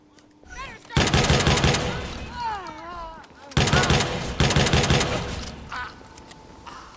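Gunfire in the game Watch Dogs 2 comes in two loud bursts of rapid automatic shots, separated by a short pause, with a voice talking faintly between the bursts.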